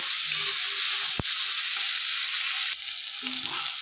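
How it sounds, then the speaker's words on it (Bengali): Eggplant pieces fry in hot oil with a steady, dense sizzle heard up close, broken by a single sharp clack and a slight shift in intensity partway through. "বেগুনগুলো আমি ভেজে নেব, ভালো করে আমি ভেজে নেব বেগুনগুলোকে"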